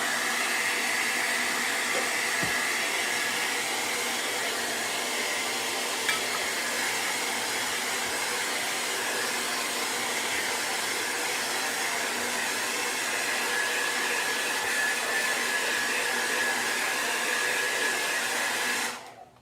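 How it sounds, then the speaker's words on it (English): A blow dryer runs over burlap fabric as a steady, close, continuous roar, holding even for about nineteen seconds before cutting off abruptly at the end. "quick blow dry one more time"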